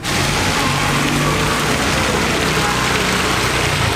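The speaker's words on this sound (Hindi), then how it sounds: "बारिश तो बहुत ज़्यादा है" Heavy rain pours down in a steady, dense hiss with a low rumble underneath, loud and unbroken throughout.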